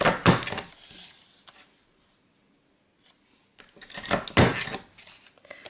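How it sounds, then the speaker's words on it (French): Two short bursts of crunching, snapping paper punch strokes, close and fairly loud, separated by a quiet pause. "Je prends ma perforatrice de bordure."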